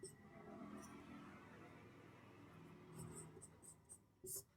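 Chalk or a marker writes steadily on a board during a chemistry lesson, a faint continuous scratching with a few short taps near the end, recorded at low level with no clear speech.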